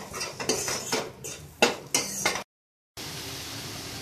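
Mushrooms are sautéed for a creamy white-sauce mushroom pasta, with a spatula clanking and scraping against the pan in quick bursts, close by, followed by a short silent gap and a low steady background hiss.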